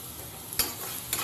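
Chicken and onion sautéing over a low flame in a pot for soup give a soft, steady sizzle, with two brief scraping stirs of a utensil cutting through.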